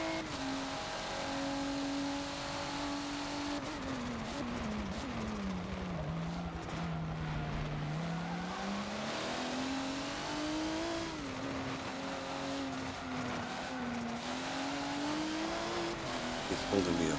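A race car driven on the Nurburgring GP track in Forza, a continuous engine drone whose pitch drops through a corner and climbs again under acceleration, with tire noise and brief skids.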